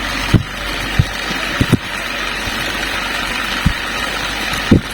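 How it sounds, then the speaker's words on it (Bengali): A coil winding machine spins copper wire onto a ceiling fan coil, giving a steady droning motor hum with a few dull knocks spread across it, close by and with no talking. "দেখতে পাচ্ছেন কত সুন্দর ভাবে, কত স্পিডে কয়েল বাইন্ডিং করা হচ্ছে।"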